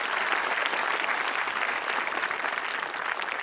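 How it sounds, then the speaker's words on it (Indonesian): A stand-up comedy audience breaks into steady, dense applause that holds at an even level throughout, with no voices over it. "tepuk tangan lu doang buat Bang Uus"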